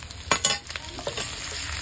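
Meat dropped into a hot pan after long frying sizzles loudly, with a few sharp spatters and scraping stir strokes early on, then a steady close hiss.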